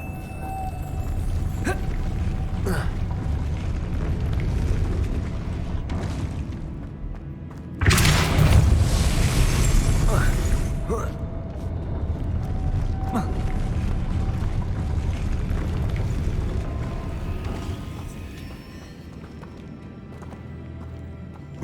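Depulso spell cast in the video game Hogwarts Legacy: a loud forceful whoosh and thump bursts out about eight seconds in, standing out over a steady din of game ambience and mechanical clatter.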